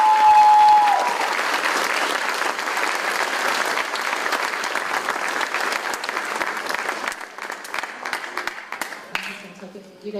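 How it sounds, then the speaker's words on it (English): A crowd at an adult education graduation claps loudly and steadily, then the applause gradually thins and fades, with a voice speaking near the end. "Please give her a big round of applause."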